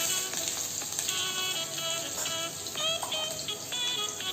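Onions frying and sizzling in a pan as they are stirred, a steady broadband crackle with scraping strokes of the spoon running throughout.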